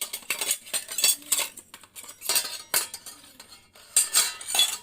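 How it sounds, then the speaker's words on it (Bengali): Two metal serving spoons for curry handled together, clinking and scraping in quick bright bursts, close and fairly loud, with no talking. "আর এনেছি 2টা চামচ তরকারি নেওয়ার জন্য"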